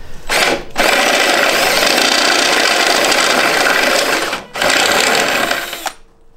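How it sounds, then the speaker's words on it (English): A power drill fitted with a step bit bores through metal in a Miata engine bay during wire tucking, giving two long, loud whining bursts separated by a brief pause, with no talking. "step bits make it so much easier"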